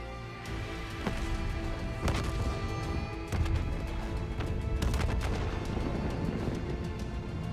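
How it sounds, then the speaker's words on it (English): Explosions and gunfire in the Call of Duty Black Ops 3 video game, loud sharp blasts and cracks bursting repeatedly over a dense, rumbling battle din, with no voices heard. "Multiple explosions across the facility."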